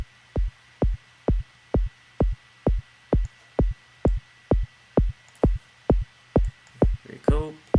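Synthesized kick drum in Ableton Live, shaped by a pitch envelope and compression. About fifteen deep, punchy hits repeat evenly, with a short rising pitched tail at the very end.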